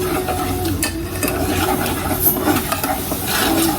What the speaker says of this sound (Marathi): आता या साबुदाणा मीठ मिक्स करून घ्यायचं